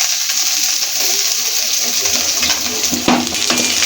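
Chopped onion frying in oil in a pan for a dried-fish curry, a steady close sizzle with occasional stirring scrapes and a brief clank of utensil near the end.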